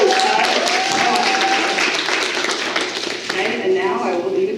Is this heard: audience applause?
yes